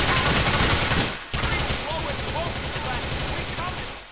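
Gunfire in GTA IV, loud rapid bursts of automatic shots that break off briefly and then resume as a dense rattling barrage, with a voice speaking over parts of it.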